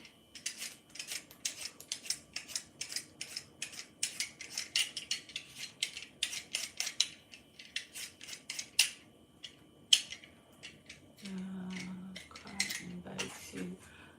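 Rapid scraping strokes of a peeler on a vegetable being prepared for a local lunch, a steady rhythmic series of short rasps close by, then a brief clatter of kitchen utensils near the end, with no speech.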